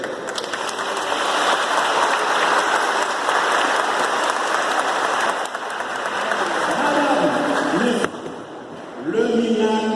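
An audience at a national flag day celebration bursts into loud, dense applause that carries steadily and then breaks off, with a raised voice cutting in near the end.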